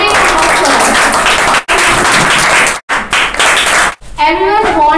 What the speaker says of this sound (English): So give a big applause.